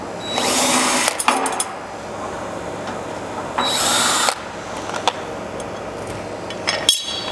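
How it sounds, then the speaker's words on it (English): A power drill backs out two Phillips screws from the plate on an explosion-proof 3000 kg platform scale. Two loud, close whirring bursts of about a second each, separated by a quiet gap with small clicks and handling noise. "I'm going to take off this plate. Just 2 Phillips screws."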